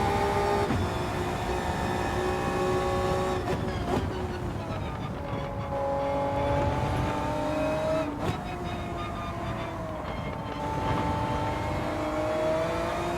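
Race car engine at Suzuka in Gran Turismo 7, holding a steady high-pitched drone with gear-shift dips and rising revs as it accelerates, loud and continuous throughout.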